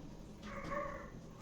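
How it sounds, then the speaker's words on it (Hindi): A dog barks once in the distance at night, faint and muffled against a low background hum. "अब कुत्ते भौंक रहे हैं उसके लिए,"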